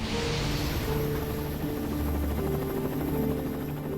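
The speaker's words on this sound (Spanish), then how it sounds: "Pasan más de 3 horas antes de que lleguen los helicópteros de rescate." Rescue helicopters arriving at the scene of a passenger airliner crash in western Sweden, heard as a steady, loud rotor and engine drone with a low pulsing buzz that holds throughout.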